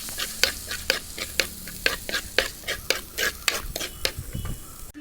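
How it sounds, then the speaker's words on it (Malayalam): Ginger-garlic paste frying in hot oil for a Kerala fish masala, a steady close sizzle broken by about a dozen sharp, regular spoon-against-pan scrapes and clicks as it is stirred, with no talking. "അപ്പോൾ അത് നമുക്ക് ഇഞ്ചി വെളുത്തുള്ളി പേസ്റ്റ് ഇട്ട് കൊടുക്കാം."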